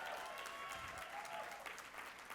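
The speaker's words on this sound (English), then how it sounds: "Give yourselves a round of applause." A crowd at a union leadership conference applauding steadily, dense clapping at a constant level that fills the whole stretch with no break.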